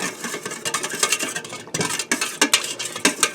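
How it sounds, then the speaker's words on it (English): A whisk stirs tomato sauce in a bowl, mixed with onion, garlic and ground beef, producing quick irregular scraping clicks and wet pattering strokes against the bowl, close and moderately quiet. "Now I'm going to take a whisk and just blend this together."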